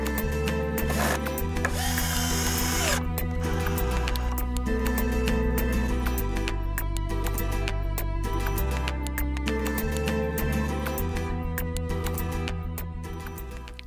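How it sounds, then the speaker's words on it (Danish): Power drill driving screws into the wooden boards of a guinea pig cage: a steady motor whine with pitch shifts as each screw bites, plus creaks and brief pauses, heard close and loud without talk. "Der skruer jeg altså ind i den her lille læg, jeg har lagt her opad, og ikke ind i siden af brættet her"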